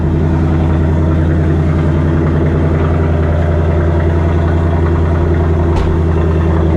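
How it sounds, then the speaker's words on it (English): A Ford Mustang V8 engine with stock exhaust idles steadily and loudly up close, a deep, even burbling rumble with a slight pulsing lope throughout. "Love the way this car sounds."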